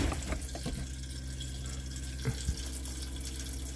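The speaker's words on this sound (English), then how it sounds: "Now we can turn the water on." Water rushes through the plumbing of a 2021 Northwood Arctic Fox RV once the supply is turned on: a steady, close hiss of flow with a couple of faint knocks and no talking.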